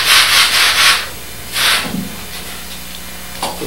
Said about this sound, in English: I'll sand them on my sanding block